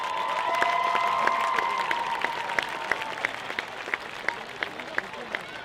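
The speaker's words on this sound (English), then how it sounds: "Let's give a round of applause to all senior homecoming nominees." A school homecoming crowd claps steadily, the applause holding at an even level before thinning into sparser, distinct claps near the end.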